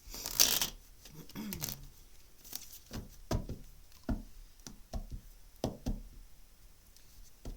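Tarot cards being shuffled and drawn, a riffle of shuffling at the start followed by a series of soft taps and card flicks at irregular intervals, close and quiet.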